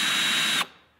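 A Ryobi cordless drill runs at high speed with a bright, whining motor hum, then cuts off abruptly partway through and spins down into near silence, close and alone without talk.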